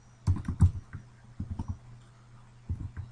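Typing on a computer keyboard produces a few quick clusters of close, crisp key clicks separated by short pauses, loud against a quiet room with no voices.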